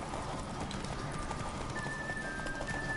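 Rapid hoofbeats of a galloping horse in The Witcher 3 video game, a quick continuous clip-clop rhythm under constant game ambience, fairly loud and close.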